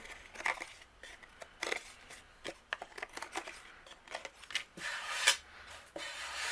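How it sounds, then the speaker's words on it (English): Scissors trim overhanging paper from the edge of a handmade card, a close run of small snips and rustling paper with irregular rhythm and no voices. "So anything overhanging, I'm going to trim away."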